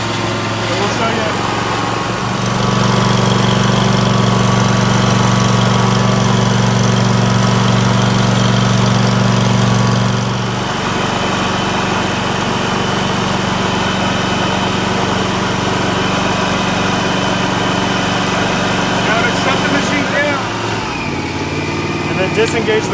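An STI 2818 LP propane-powered floor grinder runs at 2,800 RPM with number 3 grit, giving a loud steady engine drone with a heavier low hum in the middle stretch, and a voice talks over it.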